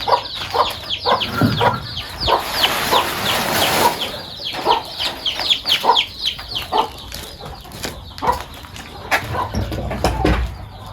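Hens on a desi poultry farm cluck repeatedly in short, irregular bursts, with occasional wing flaps and a rooster-like call, all fairly close and lively with no talk.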